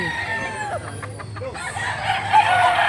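A bullstag rooster crows once at close range, a long rising and falling call standing out over steady farmyard background noise, with a second voice joining near the end.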